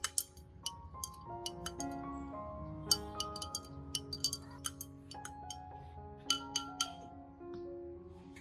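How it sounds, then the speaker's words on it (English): A spoon stirs ginger and garlic in hot water inside a glass, sending out a string of light, irregular clinks against the glass over a soft background of music, with no talking. "Stir gently to let the essences blend evenly into the water."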